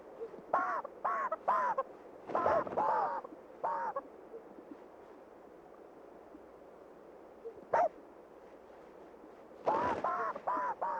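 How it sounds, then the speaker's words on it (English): A sage grouse's inflated air sacs make hollow popping sounds in a mating display, in short bursts of three or four, with a lone pop midway and another cluster near the end against quiet morning air. "Greenish-yellow air sacs bulge, pulsate, and pop."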